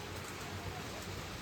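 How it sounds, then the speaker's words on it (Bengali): Sudden rain falling steadily in the background, a soft continuous hiss with no distinct drops, quiet and even throughout. "এখনই আবার বৃষ্টি নেমে গেছে"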